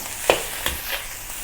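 Crab fried rice tossed and stir-fried in a hot, smoking wok: a steady close sizzle with a few sharp scrapes and clanks of the utensil against the wok.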